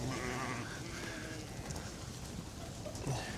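A small lamb bleats on a farm among ewes, a few clear calls standing out over a steady outdoor background with no talking.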